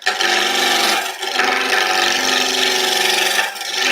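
Steady, dense rasping and scraping as a roughing gouge cuts a spinning wood blank on a lathe while turning a thick finial. The cutting runs close and continuous, with brief dips where the tool eases off.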